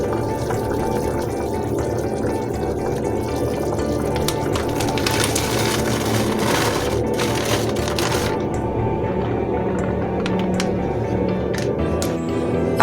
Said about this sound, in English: After an hour, I am now going to add soup mix.